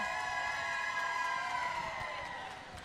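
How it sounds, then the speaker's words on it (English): An air raid siren wails from fans in the stands at a roller derby game, a sustained moaning tone holding steady and then slowly sliding lower, heard at moderate distance over faint crowd noise. "Twister City fan club out there with the air raid siren and just getting loud"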